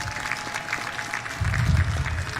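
Applause from a crowd at an official ceremony in Kenya rises from light scattered clapping to a fuller, louder round, heard at moderate distance with no clear speech.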